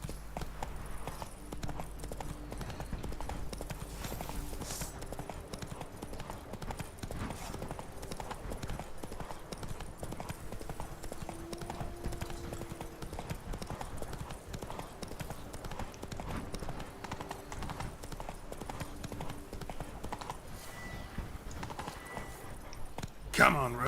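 Hooves of Roach, a horse in the video game The Witcher 3: Blood and Wine, clip-clop in a steady galloping rhythm throughout, close and continuous, with game music and ambience beneath and a brief louder burst at the very end.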